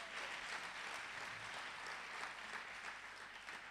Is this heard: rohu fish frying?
no